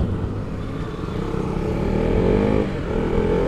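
A KTM Duke 250 motorcycle engine rumbles close by on a group road ride, a loud, steady low drone that swells slightly as it builds speed, with wind noise and no talking.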